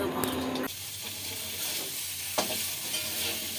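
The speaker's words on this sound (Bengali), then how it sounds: "এক চামচ জিরে আর 1 চামচ ধনে একটু শুকনো করে ভেজে নিই।" Cumin and coriander seeds dry roasting in a pan without oil, a soft sizzle with stirring scrapes and a sharper clatter near the start, close and steady for a few seconds.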